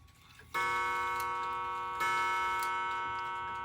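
A Welch mantle clock with a Brocot escapement, heard close up in a quiet room, where a sudden onset gives way to a sustained ringing tone with a second struck accent partway through.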